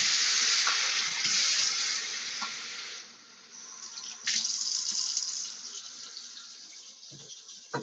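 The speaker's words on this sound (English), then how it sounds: "So now you want to add 3 cups of water." Three cups of water are poured in for a vegan wild rice casserole seasoned with butter, thyme and salt, giving a close, steady rushing splash that pauses briefly between pours.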